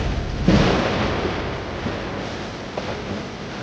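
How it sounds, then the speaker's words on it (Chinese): A deep rumble of thunder rolls across a wide open space, rising sharply at first and then fading into a long, low, continuous roar without any voices. "打雷了，马上要下雨了"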